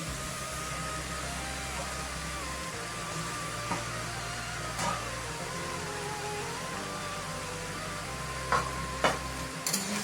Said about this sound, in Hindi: अभी मैं फिर से मिक्स करेंगे।